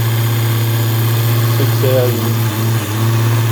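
A small electric slot car motor hums steadily at high speed, around 6,800 RPM, on a test rig, a constant drone running beneath a man's speech.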